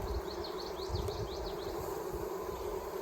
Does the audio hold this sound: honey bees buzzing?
yes